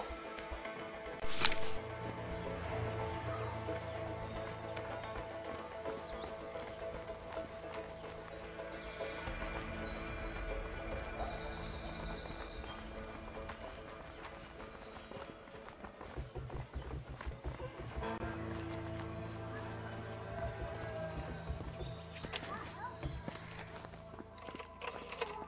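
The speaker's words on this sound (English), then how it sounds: "Let's just hope these horses keep running." Rhythmic hoofbeats of horses galloping along in the game A Way Out, steady and continuous over a bed of music and mechanical game sounds.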